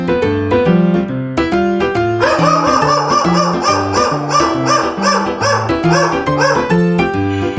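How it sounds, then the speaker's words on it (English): A dog barks repeatedly in quick bursts, loud and close, layered over cheerful rhythmic music. "It's a dog."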